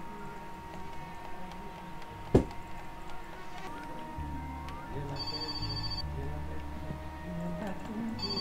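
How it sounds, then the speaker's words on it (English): A telephone rings in the video game My Summer Car, with repeated electronic ring bursts over a steady hum of game ambience, plus a sharp knock. "Whoa, got another phone call."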